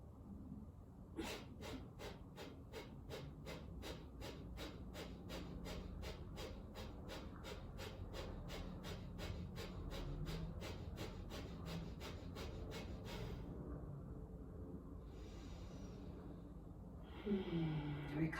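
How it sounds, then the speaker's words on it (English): Breath of fire yoga breathing: a long run of rapid, evenly spaced forceful nasal exhales, close and rhythmic for about twelve seconds, then stopping into quieter breathing and a brief voice near the end. "move into breath of fire"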